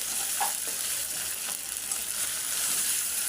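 Ginger and garlic fry in a pan with green chillies and onions for a loitta fish curry, a constant loud sizzle with occasional stirring scrapes throughout.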